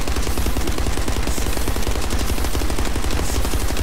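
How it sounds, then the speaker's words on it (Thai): Loud, dense automatic gunfire from a sharp precision shot weapon in The First Descendant rattles continuously at a fast, steady rate throughout, close and alone. "sharp precision shot ยิงให้ดู"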